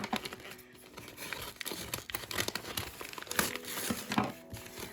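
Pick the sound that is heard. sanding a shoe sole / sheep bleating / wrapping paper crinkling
wrapping paper crinkling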